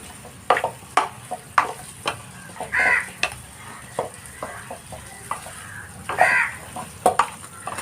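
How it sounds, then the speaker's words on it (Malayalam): Beef being mixed with fenugreek and coconut oil in a pot, heard as close, irregular spoon clinks, knocks and scrapes with brief shuffling stirs and no talk. "എല്ലാം കൂടിയിട്ട് ഞാൻ നന്നായിട്ടൊന്ന് മിക്സ് ചെയ്ത് കൊടുക്കുന്നുണ്ട്"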